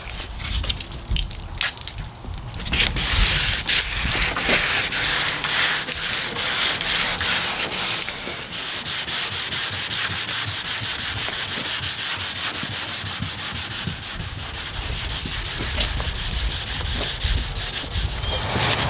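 Wet sanding of rolled-on car paint with 400 grit sandpaper, a continuous close scrubbing rasp with rhythmic back-and-forth strokes and watery friction, no talking.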